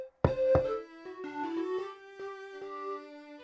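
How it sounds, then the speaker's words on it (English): Two quick, sharp knocks on a door in a cartoon setting, followed by light, tonal musical notes. "It must be my friend Harry the horse at the door"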